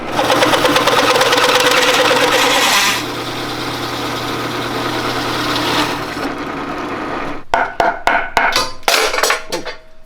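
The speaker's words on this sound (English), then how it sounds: "So now that I have this in the drill press and held down, I can go ahead and get the hole drilled." A loud, steady mechanical whine of a drill press cutting a hole with a hole saw for several seconds, then easing off into a series of sharp irregular clanks and knocks.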